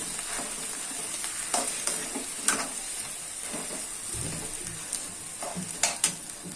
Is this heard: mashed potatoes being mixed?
yes